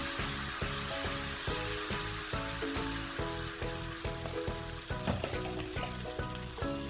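Parappa appam dosa batter sizzles and fries on a hot pan in a steady, close hiss. A rhythmic series of soft knocks and scrapes runs underneath as the batter is spread.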